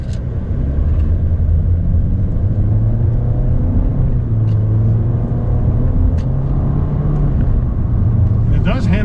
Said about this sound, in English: With this CVT, the simulated shifts using the paddles are probably better than average.